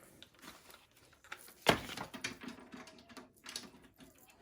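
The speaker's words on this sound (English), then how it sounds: "Just trying to cut it with my guillotine trimmer" A guillotine trimmer slices through a piece of fabric stuck to sticky board, giving one sharp, close cut followed by faint handling clatter against a quiet room.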